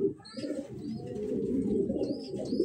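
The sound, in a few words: pet pigeons cooing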